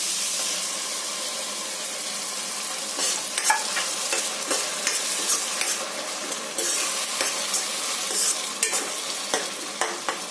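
Tomato puree frying in oil in a pan for a suran (elephant foot yam) curry, a steady loud sizzle with occasional stirring scrapes, no talking.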